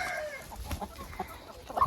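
Chickens cluck softly in a backyard coop, with scattered short calls over a low, quiet background and one louder cluck near the end.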